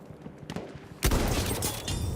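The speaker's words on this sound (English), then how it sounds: "I want my sniper rifle to sound like a sniper rifle, and this thing does. It sounds amazing. It's punchy" A sniper rifle in Battlefield 1 fires one sharp, punchy close shot that rings out and decays over the next second, with faint game sounds before it.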